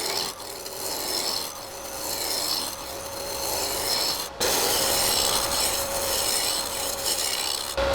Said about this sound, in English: I'm using a spindle roughing gouge to remove all of the corners